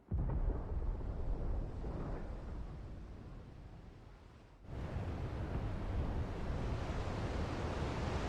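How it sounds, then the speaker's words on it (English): Deep rumbling thunder rolls in Final Fantasy 16, a broad continuous roar that eases off midway and then surges back loud and steady, with no talking. "Sounds like thunder."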